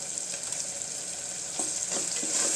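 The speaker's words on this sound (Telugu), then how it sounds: "అల్లం వెల్లుల్లి పేస్ట్ బాగా వేయించిన తర్వాత" Ginger garlic paste with a pinch of turmeric sizzles steadily in a pan for chole masala, a close, continuous frying hiss with soft stirring scrapes, no one talking.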